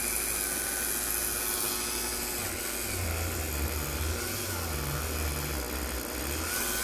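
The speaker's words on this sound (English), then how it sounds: "as I was touching the polishing wheel to the frets, it was bogging down the Dremel" Dremel rotary tool with a polishing wheel on guitar frets, a steady high whine that sags lower and bogs as the wheel presses against the metal, close and continuous.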